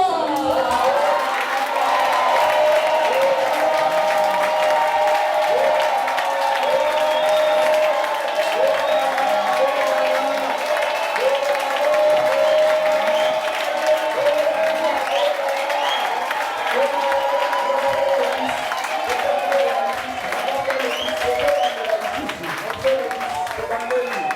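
Sustained applause from a church congregation at a New Year's Eve service, steady and full for the whole stretch with crowd noise mixed in, dipping slightly near the end.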